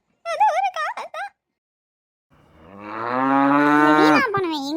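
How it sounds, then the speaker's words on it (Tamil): Cattle lowing on a farm: one long, loud, rising moo that swells and holds for about two seconds, following a brief burst of nearby human vocalising. "மாடு இவ்வளவு நேரம் கத்துது"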